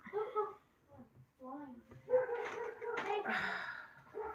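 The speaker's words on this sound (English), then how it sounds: "They are barking. Sorry, guys." Dogs bark and yip close by, a short run of high, excited barks and whines with a few overlapping yelps.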